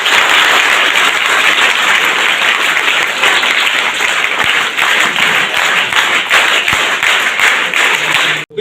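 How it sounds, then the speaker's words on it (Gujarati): An audience claps steadily for schoolgirls at a tree-planting event at the boys' and girls' schools in Gambhira village, Anklav, Anand; dense, loud applause runs unbroken for the whole stretch, then cuts off at the very end. "હું ઈચ્છીશ કે બધા એમની માટે એક વખતે તાળીઓનો ગણગણાટ કરીશ"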